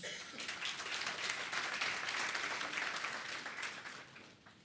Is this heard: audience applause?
yes